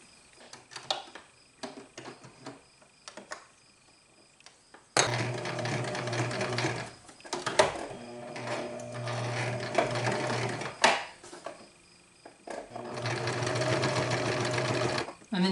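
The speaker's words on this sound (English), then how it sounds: "So I'm gonna start sewing like here on the edge." A sewing machine stitches along the edge of a fabric coaster in several separate runs, its whirring mechanical hum starting and stopping, with quieter handling noises and clicks between the bursts of sewing.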